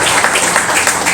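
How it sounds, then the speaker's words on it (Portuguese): A church congregation applauds during a worship service, a dense, steady wash of many hands clapping at close range, loud and continuous without a break. "Aplauda o Senhor por Jesus."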